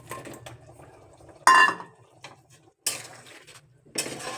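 Lentil fritters dropped into a pot of jackfruit curry, making a few sharp clinks and scrapes of a metal utensil against the pot under a low kitchen background.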